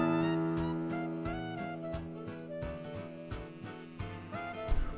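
A plucked guitar string rings out in a simple sound demonstration for young children. A series of clear, fairly quiet notes is picked one after another with a steady rhythm, with no voice heard.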